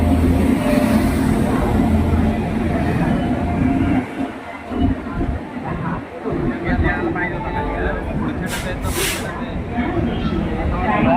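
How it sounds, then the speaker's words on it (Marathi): Mandovi Express train pulling into a crowded station platform an hour late, a steady rumbling roar with hissing and a brief high squeal, with a person talking over it. "हे बघा आता फायनली गाडी आलेली आहे."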